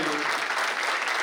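An audience applauds, a dense patter of many hands clapping at once, loud and sustained across the whole short moment.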